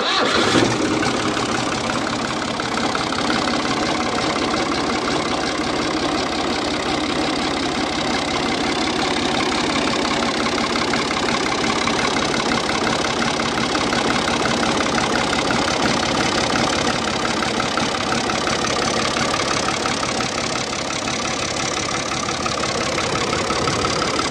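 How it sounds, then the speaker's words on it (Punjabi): A 1998 New Holland 5556 tractor engine runs at a steady idle, a continuous low rumbling drone that holds even and unbroken throughout. "ਬਿਲਕੁਲ ਬੇਆਵਾਜ਼ ਟਰੈਕਟਰ ਸਟਾਰਟ ਖੜਾ ਹੈ"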